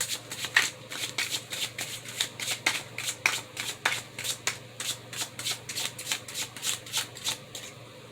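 Tarot cards are shuffled in steady, brisk riffling bursts, roughly two per second, close and crisp over a faint low hum, with no talking.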